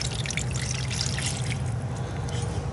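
Water being poured into a stained glass grinder, a steady liquid trickle and splash with faint drips, continuous and fairly close, with no talking.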